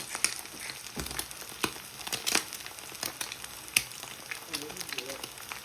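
Food fries in oil in a pan as puttu is prepared, making a faint crackle and crinkly sizzle dotted with brief clicks and scrapes.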